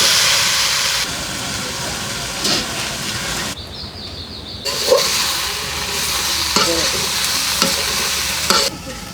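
Fresh wetland fish braising in a pan in a rural kitchen, a steady broad sizzle with stirring that drops out briefly midway and then resumes, fairly loud and close.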